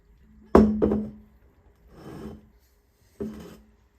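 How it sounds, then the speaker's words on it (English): Mirabelle plums being crushed by hand in a bowl and colander to press out juice, three separate squelching, rasping bursts close up with quiet pauses between them. "I help myself and crush the fruits a little to extract the juice better."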